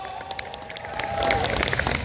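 An outdoor festival crowd at an agricultural produce fair in Uiryeong cheers and applauds for a trot singer, a steady wash of clapping and shouting that swells louder toward the end, with a thin whistle-like tone running through it.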